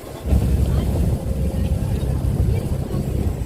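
A river launch pulls away on the Brahmaputra in Assam, its engine a steady low rumble mixed with water rush and wind buffeting, continuous and fairly loud from start to finish.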